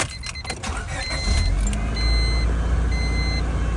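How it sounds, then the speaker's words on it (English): A Honda Civic's engine cranks briefly and catches, then settles into a steady idle, with a few soft electronic chimes sounding over it. "we're going to go ahead and start the car."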